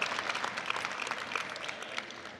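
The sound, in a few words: audience applause at volleyball event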